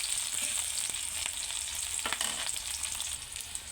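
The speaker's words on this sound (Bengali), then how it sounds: "একটু পেস্টটা ভাজা হয়ে আসছে" Onion and green chilli paste fries in a pan with a constant, close sizzle and a few light stirring scrapes, with no talking over it.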